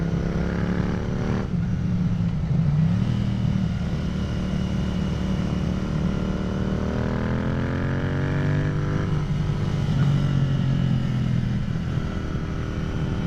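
A motorcycle on a wet road, ridden steadily on a shakedown ride, its engine a loud continuous drone that rises and falls in pitch with throttle changes under constant wind rush.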